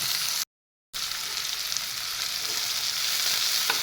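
Onions and green chillies frying in a pan for a brinjal curry, giving a steady, close hiss of sizzling oil that runs throughout, broken once by a brief silent gap near the start.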